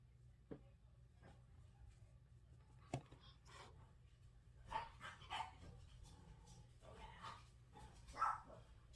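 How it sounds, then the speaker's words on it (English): Dogs playing indoors, barking in scattered short bursts with a few yips and whimpers, heard faintly as if from another room over a low steady hum. "Those dogs are in there playing up a storm."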